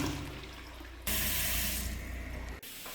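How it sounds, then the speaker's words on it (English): Household taps are switched on and water gushes loudly into a sink, a sudden steady rushing stream after a quieter start that drops off briefly near the end. "All right, we got the taps running."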